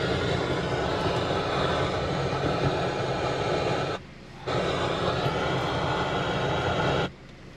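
Chevrolet Impala or Malibu engine running at idle. It makes a steady, loud, broadband rumble that cuts out briefly twice, with no voices.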